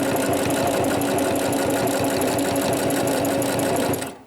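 A sewing machine stitches through layers of fabric on a crochet popcorn square bag, running in a fast steady mechanical whir with rapid needle clatter, loud and close, before stopping abruptly at the end.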